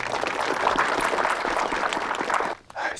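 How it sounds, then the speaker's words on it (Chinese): A studio audience claps to see off a guest, a dense, steady patter of applause lasting a couple of seconds before it fades into near silence and a short burst of voices. "那咱掌声欢送一下郭老师"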